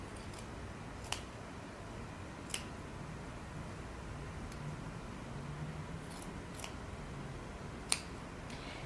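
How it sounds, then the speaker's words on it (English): Scissors trimming the fabric corners of a homemade cape, a handful of crisp, isolated snips spaced a second or two apart over a quiet room hiss. "go ahead and trim your corners"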